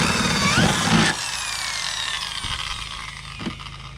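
A power drill bores through the bumper cover of a 2009–2013 Subaru Forester backed by a piece of wood. It gives a loud, close whining burst for about a second, then fades into quieter intermittent grinding and clicks.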